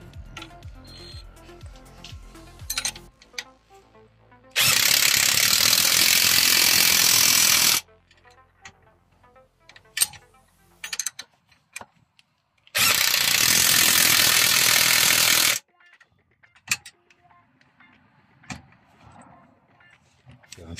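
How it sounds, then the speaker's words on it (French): An impact wrench tightens a bolt with an 18 mm socket in two loud, sustained bursts of a few seconds each, separated by quieter clicks and handling noises. "avec la clé à choc."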